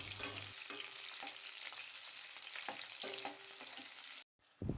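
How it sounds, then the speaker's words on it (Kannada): Onion, small pieces of ginger and garlic fry in hot oil for a paneer gravy, producing a quiet, steady sizzle with light stirring taps, ending in a brief silence before the sizzle returns, with no talk. "ಎಣ್ಣೆ ಚೆನ್ನಾಗಿ ಬಿಸಿ ಆದಮೇಲೆ ನೀರುಳ್ಳಿ ಮತ್ತು ಸಣ್ಣ ತುಂಡು ಶುಂಠಿ, ಬೆಳ್ಳುಳ್ಳಿ ಇವುಗಳನ್ನು ಹಾಕಿ ಚೆನ್ನಾಗಿ ಒಮ್ಮೆ ಫ್ರೈ ಮಾಡಿಕೊಳ್ಬೇಕು"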